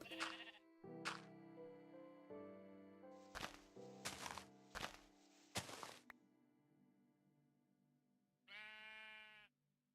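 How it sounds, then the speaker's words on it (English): A short, synthetic sheep bleat in Minecraft (GT New Horizons modpack) near the end, wavering and nasal, following a series of clunky game thumps and tones. "Oh, that's a sheep."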